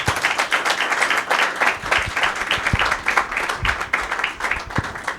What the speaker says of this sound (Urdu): یسوع مسیح کے لیے زوردار تالیاں بجائیں۔